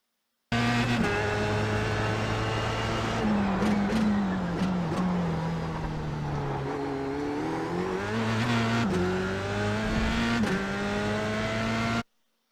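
A Formula Sprint race car in iRacing at Zandvoort revs hard through the gears, its high engine whine climbing, dropping at each shift and climbing again, steady and close, with tire noise underneath.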